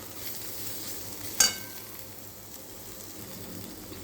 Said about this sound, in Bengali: শুধু নুন দিয়ে ভাজছি।